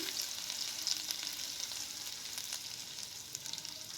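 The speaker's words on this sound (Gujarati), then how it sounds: "એ પેસ્ટને આમાં એડ કરશું અને સારી રીતે સાતળી લેશું" Ginger-chili paste sautéing in a pan, giving off a steady soft sizzle with faint crackles throughout and no talking.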